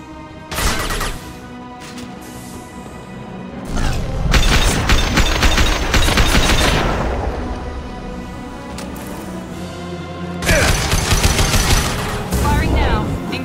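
Dense sci-fi gunfire and explosions in the video game Mass Effect 2, loud sustained volleys that ease off in the middle and then return, with a character's voice heard between shots.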